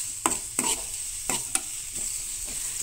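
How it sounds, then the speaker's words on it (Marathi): Garlic and onion sautéing over medium heat for stuffed baby brinjal in a home kitchen, a steady close sizzle broken by several sharp scrapes of a spoon stirring in the pan. "तर आता लसूण आणि कांदो जो आसा न्हय तो परतून घेया, म्हटल्यार भाजून घेया"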